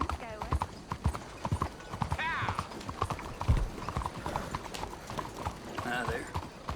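Horse hooves clip-clop steadily on a road in Red Dead Redemption 2, close and rhythmic, with a horse whinnying and voices talking over the footsteps.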